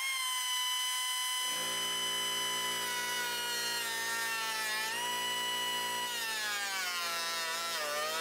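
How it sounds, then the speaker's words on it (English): Pneumatic air grinder cutting away metal plate on a Honda Civic build, a loud steady high-pitched whine that starts abruptly after a second and a half of silence, then holds with slight pitch wavering as it bites. "So I'm going to take out the grinder."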